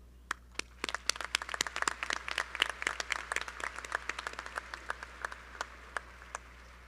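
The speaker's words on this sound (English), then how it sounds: "Please join me in applauding our outstanding faculty" Audience applause at a law school commencement ceremony, sparse, distinct claps building briefly then thinning out to a few scattered hand claps near the end.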